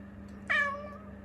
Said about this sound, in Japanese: 鳴き声が ちょっと普通の猫とは違う感じがします